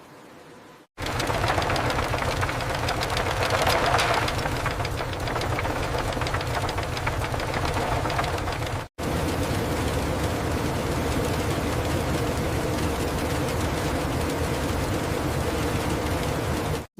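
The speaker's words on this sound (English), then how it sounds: "High-speed saw gins separate cotton fibers from seeds, preparing raw material for cotton fabric production." High-speed saw gins run in a cotton processing factory, separating fiber from seed: a loud, steady mechanical roar with rapid rattling texture, broken by one brief cut near the middle, with no talk.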